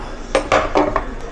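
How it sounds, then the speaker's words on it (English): Silverware and cookware in the drawers of a holiday apartment kitchenette clink and rattle in several short bursts as drawers are opened and handled, close by and fairly loud. "The kitchenette comes fully equipped with silverware, cookware"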